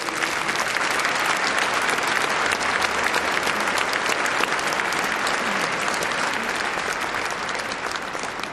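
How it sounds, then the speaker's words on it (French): A cathedral congregation at an Assumption Mass breaks into steady, thick applause, many hands clapping at once in a full, even roar that holds without a break. "je voudrais qu'on applaudisse les jeunes de CASA et les clercs."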